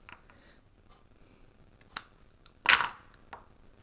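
Scissors trim card paper for a fancy-fold card, with a few sharp snips and crisp cuts after a quiet stretch. The loudest cut comes near the end, close and alone.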